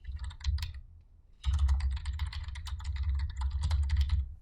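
Rapid typing on a computer keyboard while a block name is entered in drafting software, with dense, fast key clicks in two bursts separated by a short pause.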